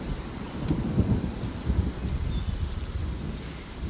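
Heavy rain pours steadily with deep rolling rumbles of thunder, a dense continuous wash of sound with no voices, suited to a calm outdoor storm backdrop.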